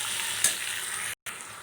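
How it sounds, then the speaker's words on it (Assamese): Potatoes and pointed gourd fry in a pan while being stirred. A continuous oily sizzle runs under brief scraping strokes, with a sharp spatula clink near the start and a momentary dropout. "এয়া চাওক, মই এইখিনি এতিয়া ভাজি আছোঁ।"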